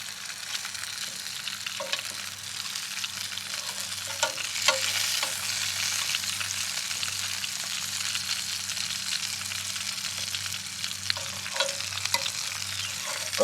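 Donohue Quality Meats sausages frying on a portable gas cooker, a steady crackling sizzle with scattered pops and spits over a faint low hum from the burner, close and continuous without talk.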